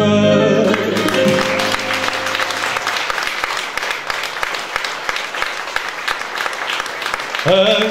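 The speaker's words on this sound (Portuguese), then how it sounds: "palmas para o Tiago Lima" An audience at a live fado performance applauds the Portuguese guitar player, steady dense clapping lasting several seconds, preceded by a voice and instruments and followed by music resuming.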